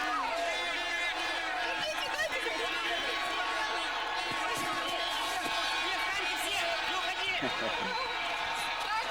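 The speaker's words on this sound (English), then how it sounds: "the crowd have just come to life" Spectators cheer and roar at a women's 4x6 km biathlon relay at the 2003 World Championships in Khanty-Mansiysk, a steady dense crowd noise filling the whole stretch beneath a commentator's voice.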